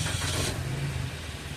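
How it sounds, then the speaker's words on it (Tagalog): A Suzuki Ertiga engine cranks and catches after an oil change and flush, a short burst of starter whirr settling into a steady mid-pitched running note, close and loud with no talk. "Tapos, start ko na itong makina."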